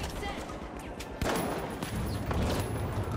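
Rapid automatic turret gunfire in The Finals, loud and close, bursts of repeated shots running through the whole stretch with a sharp onset partway in, while a player's voice talks over it.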